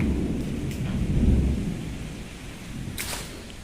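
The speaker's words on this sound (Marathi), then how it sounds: "खूप मोठ वारं" Low rumbling unseasonal storm noise in Osmanabad (Dharashiv), India, with rain hissing steadily throughout and strong gusts swelling and fading, no voices.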